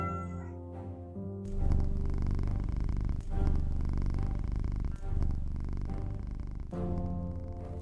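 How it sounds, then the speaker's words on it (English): A cat purrs steadily and close by, a low continuous rumbling that pulses with each breath and briefly breaks between breaths, with a soft hum in the background and no talk. "supervising as always is Vega the cat"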